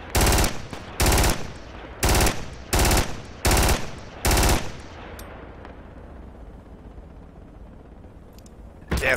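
Heavy bursts of automatic gunfire from the military shooter Project Reality come close and loud, six short volleys in a steady rhythm. Distant shots and battlefield rumble trail after them, and one more burst starts at the end.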